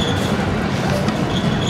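A Dhaka metro rail train running, heard from inside the carriage as a steady, loud rumble of wheels and motor with faint high squeal, unbroken over a short stretch.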